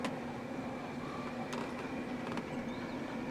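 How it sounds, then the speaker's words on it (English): A heater roars steadily indoors as a constant, fairly loud broadband hum, with a few faint clicks and knocks over it. "You can hear my heater going in the background."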